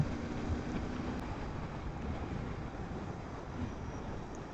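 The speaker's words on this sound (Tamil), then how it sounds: "ட்ரெயின் போயிட்டுருக்குங்க." A train crosses the Pamban bridge over the sea, a steady broadband rumble and rush mixed with wind, continuous and even with no distinct clacks or voices.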